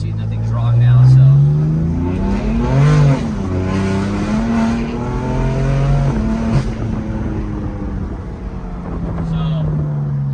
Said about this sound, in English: We're gonna do a second gear pull, just so you can see nothing's wrong now.